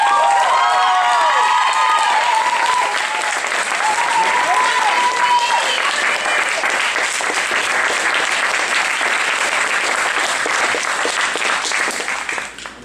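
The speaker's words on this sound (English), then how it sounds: "let's just welcome Ignacio back up for some applause" A theatre audience at a Shakespeare comedy performance event applauds loudly and steadily for a performer, with some cheering and scattered voices at first, the clapping sustained throughout before it tapers at the end.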